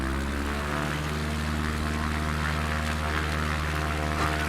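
Propeller airplane engine in a flight simulator game, taxiing up a snowy hill among trees, a steady loud droning hum with strong low harmonics held throughout, no talking.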